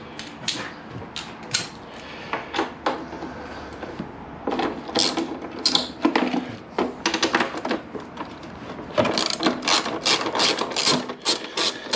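A socket wrench ratchets while bolts come off the bodywork of a 1998 Kawasaki ZX9R motorcycle, giving close, irregular bursts of clicking and metallic creaks with short pauses between runs.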